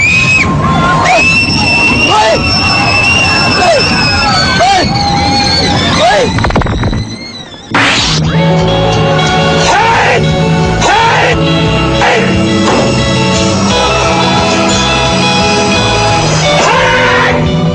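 A woman screams and cries out loudly in distress while objects are knocked about around her, the shrieks continuing almost without pause apart from one brief drop, with a crowd-like din mixed in.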